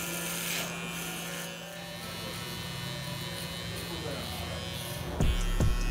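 An electric shaver buzzes steadily close up, cleaning the sides during a taper burst haircut, a continuous high whine with a few sharper thumps near the end.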